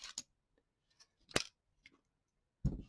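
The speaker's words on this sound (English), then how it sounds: "We cut the tape." Scissors snip through 32 millimeter Panasonic splice tape with a few short, crisp clicks and cuts separated by quiet gaps, close and fairly faint.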